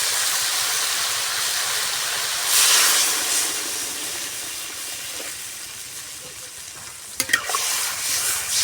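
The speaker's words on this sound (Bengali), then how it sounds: "এবার জল দেবো।" Water poured into a hot pan of frying cucumber and tomato, the base of a thin fish curry, sets off a loud, steady hiss. The hiss swells briefly, then settles, and a few sharp utensil clinks come near the end.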